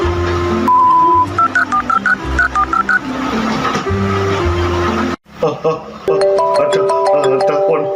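A telephone rings with a repeating electronic melody, loud and close, pausing briefly before the tune resumes; voices talk over it.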